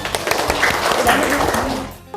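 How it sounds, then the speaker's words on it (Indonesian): Applause in a classroom setting, brief scattered clapping mixed with voices talking over it, fairly close, fading out near the end. "ya berikan tepuk tangan"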